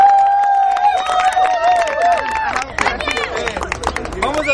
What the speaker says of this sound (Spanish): vamos a darle un fuerte aplauso al campeón Roma